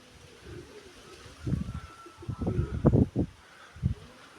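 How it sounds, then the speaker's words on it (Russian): Several low, soft cooing bursts from a pigeon, coming in short clusters against a quiet outdoor background with light rustling. "Красивий голубь."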